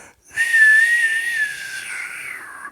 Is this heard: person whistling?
yes